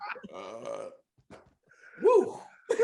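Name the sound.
burp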